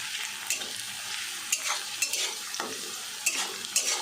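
Garlic paste frying in hot oil as a tempering for a cucumber curry, a soft continuous sizzle broken by several distinct scrapes and taps of a spoon stirring the pan.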